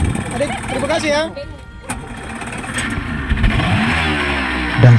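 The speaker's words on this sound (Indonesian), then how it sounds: "Dan segera mesin meraung mendorong speedboat kami membelah laut Arafura." A speedboat's motor roars into life on the Arafura Sea, a steady low rumble building after a stretch of people talking nearby, growing louder toward the end.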